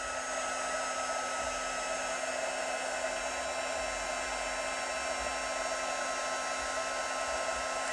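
Heat tool blowing hot air over a shaker-dome Christmas craft card, a constant steady whir and hiss that runs evenly throughout at moderate level, no talking.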